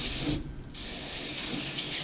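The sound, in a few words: spraying the snowblower to clear it out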